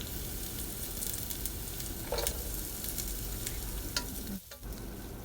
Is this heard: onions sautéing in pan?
yes